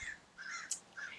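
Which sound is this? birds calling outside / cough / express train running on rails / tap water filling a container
birds calling outside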